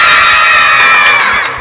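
A group of children cheering and shouting at full volume, a loud, close, continuous roar of high voices with some clapping, tapering slightly at the end.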